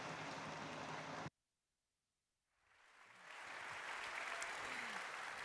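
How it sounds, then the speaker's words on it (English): Conference audience applauding its panelists: steady, dense clapping that cuts off abruptly, a brief hush, then clapping swells back and holds. "Let's give a round of applause"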